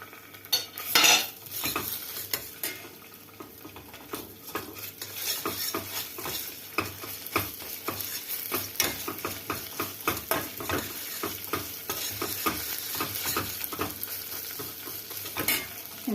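A spoon stirs tomato paste into a simmering pea and stock stew in a clay güveç pot, steady scraping and stirring clinks over a soft continuous sizzle, close and moderately loud with no talking.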